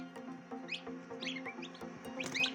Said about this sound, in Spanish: Son los 3 pollitos que nos hemos encontrado ya al abrir la tapa de nuestra incubadora